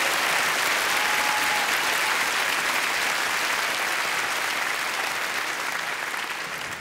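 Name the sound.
audience applause for servicemen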